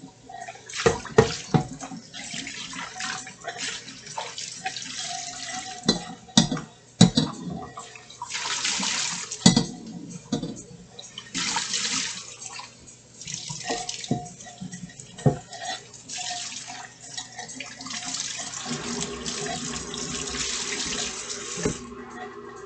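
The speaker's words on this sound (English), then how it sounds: "Be doing a little bit of rinsing." Water runs from a tap into a sink during rinsing, a continuous splashing stream broken by irregular clinks and knocks of items moved under it.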